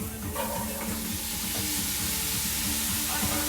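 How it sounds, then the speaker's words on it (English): Carrots and rutabaga sauté in pan drippings for a Dublin coddle, giving a steady, close sizzle and hiss that runs unbroken at moderate volume. "we're going to saute that for about 4 to 5 minutes"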